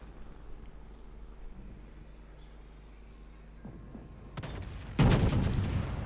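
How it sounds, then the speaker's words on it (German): Naval artillery fire in the World of Warships video game during a Scharnhorst ranked battle: a low rumbling sea ambience, a sharp crack near four seconds, then a loud booming salvo at five seconds that keeps roaring. "Mal schauen, ob die Schüsse denn ankommen."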